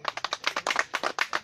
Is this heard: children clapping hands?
yes